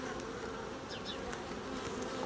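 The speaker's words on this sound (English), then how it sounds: "Bees are coming up to see her." Honey bees buzz steadily around an open hive during a swarm inspection, a dense, close, continuous hum with individual bees darting past, and no voices.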